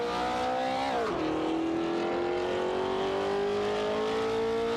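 Racing car engines from a Porsche 904 and a Shelby GT350 in an AI racing video game, a steady loud engine drone that dips in pitch around the one-second mark, then climbs slowly as the cars accelerate.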